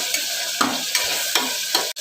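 Ginger garlic paste fries with tomatoes in a pan for hotel-style tomato rice, giving a steady close sizzle broken by several scraping stirs at a regular pace, with no talking.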